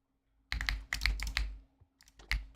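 Clicky computer keys clatter in quick bursts, a cluster of crisp close taps followed by a pause and a few more strikes, with no voice.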